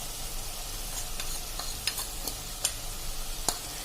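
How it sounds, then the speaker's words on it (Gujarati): Spices sauté in tomato gravy in a pan, giving a soft, steady sizzle. Several sharp scrapes and taps of a stirring spoon punctuate it, close by and fairly quiet. "આ મસાલા આપણે ટમેટાની ગ્રેવી સાથે જ આપણે સાંતળી લેશું"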